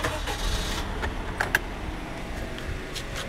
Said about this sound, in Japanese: こっちエンジンつけてみるか。